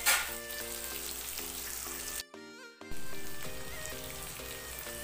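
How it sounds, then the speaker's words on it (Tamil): Curry leaves and onions sizzle and crackle steadily in a pan of hot oil, loud and close, with a brief cut in the frying sound partway through. "இது எல்லாமே நல்லா பொரிஞ்சு வருது,"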